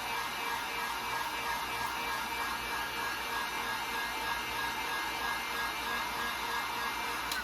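A hair dryer blows steadily to dry freshly applied paint during a one-step paint makeover, giving a constant close whooshing roar with a faint hum and no pauses.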